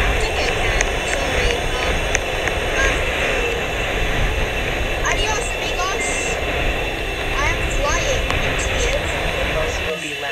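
Steady engine drone of an airplane in the Roblox game Livetopia fills the whole stretch, loud and continuous, with game sound effects and chatter layered over it.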